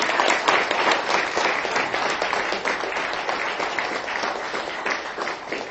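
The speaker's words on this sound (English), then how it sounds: "great round of applause for him" An audience applauds a speaker from the Ayn Rand Institute at a lecture on capitalism and poverty, a loud, full burst of clapping that slowly tapers in intensity over several seconds.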